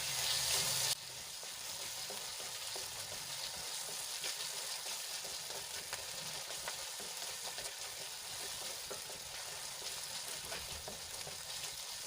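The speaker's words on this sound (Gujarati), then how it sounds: "હવે સરસ રીતે મિક્સ કરીને આપણે એને થોડી વાર માટે સંતળાવા દઈશું" Green garlic, ginger paste and chillies sauté in a hot pan with a steady close sizzle and frying crackle, briefly stirred, with no talking.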